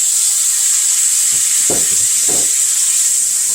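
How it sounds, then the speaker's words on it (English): Goat meat sautés in a pan for Haitian-style fried goat, a loud, constant close sizzle with two brief stirring scrapes midway and no talking. "I'm gonna saute them maybe for 2 minutes, really"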